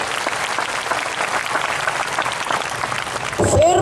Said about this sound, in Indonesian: Mana tepuk tangannya bagi firman Tuhan?